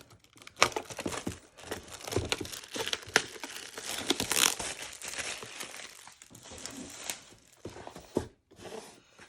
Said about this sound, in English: we take that shrink wrap off. Let's go ahead and do that now.